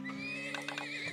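A horse whinnies in the Turmoil oil-drilling game: a bright, wavering neigh over a steady low drone, with a few rhythmic bursts in the middle, all within about a second.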